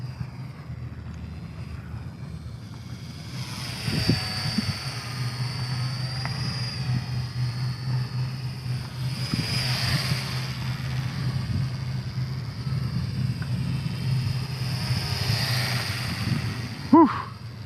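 XK WLToys Rearbear F8F Fighter micro RC plane flying fast, a steady whining electric motor and propeller buzz outdoors that swells and fades as it passes, with wind rumble underneath and no talking.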